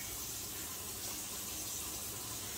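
Water pours steadily and evenly from a new Moen Adler kitchen faucet into the sink, a constant close hiss and splash with no talk.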